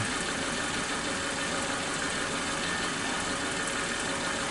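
A Suzuki Katana motorcycle engine idles with one spark plug dead, fouled black and crusted, giving a steady, close, rough mechanical drone with uneven vibration running throughout, no voices.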